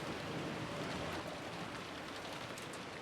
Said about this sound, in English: it was very quiet, filled only with the sound of the rain